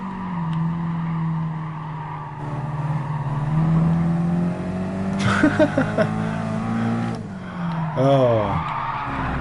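A race car in Gran Turismo Sport skids after the handbrake is pulled: engine drone shifts, then a loud tire squeal and scraping slide, with a man's brief exclamation over the noise.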